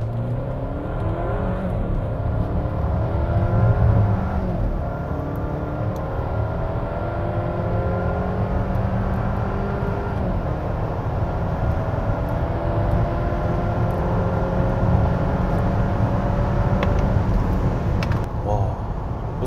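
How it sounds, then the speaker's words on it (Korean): A Volvo XC90 SUV accelerates, heard from inside as a steady engine drone with slowly rising tones under ongoing road and wind noise, while a person talks over it. "가속을 한번 해보면"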